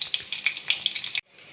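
Green chilies hitting hot oil with panch phoron in a pan for a pumpkin chhokka, giving a bright, crackling sizzle for about a second before it cuts off abruptly to near silence.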